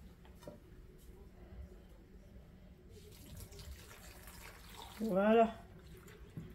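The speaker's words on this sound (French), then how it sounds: "Et je vais rajouter le bouillon" Chicken broth poured into a pan for creamy sage chicken strips with vegetables, a brief splashing burst of liquid near the end, following quiet kitchen noise and a short spoken word.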